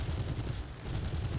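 Rapid cannon and machine-gun fire from a Spitfire Mk VC in the War Thunder flight game, a continuous dense rattle of bursts with a brief dip midway, steady and fairly loud throughout.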